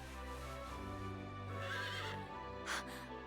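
A horse in the Fire Emblem Three Hopes video game whinnies with a long, wavering neigh over a low background drone, followed by a snort or short burst near the end.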